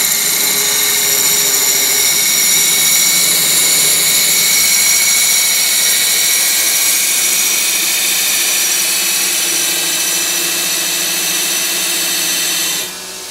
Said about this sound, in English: Put on your earplugs, because this is loud. Monster motor, 220 power, and get ready for the cool spark.